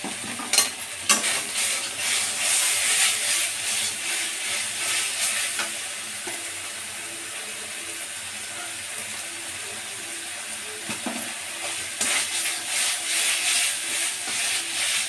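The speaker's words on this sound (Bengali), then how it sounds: "মিডিয়াম আঁচে রেখে মশলাটাকে ভালো করে একটু কষিয়ে নেব।" Spices sizzle and fry in a pan for Bengali vegetable khichdi over medium heat while a spoon stirs and scrapes steadily, busier at the start and end, with a steady frying hiss throughout and no talking.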